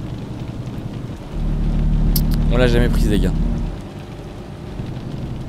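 Rain in Euro Truck Simulator 2 falls as a steady patter around a droning truck while someone speaks French briefly in the middle.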